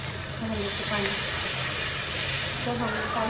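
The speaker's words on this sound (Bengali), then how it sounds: "তো এখন আমি পালং শাক দিয়ে ট্যাংরা মাছ দিয়ে বসাই দিতেছি" Tangra fish and spinach frying in a pan give a loud, steady steamy hiss that swells and fades, with a voice faintly present underneath.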